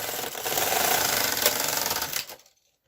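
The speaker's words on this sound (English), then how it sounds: "You are just going to knit across until you get to row 30." A knitting machine carriage is pushed across a full row, giving a steady, dense mechanical clatter for about two seconds before it stops abruptly into silence.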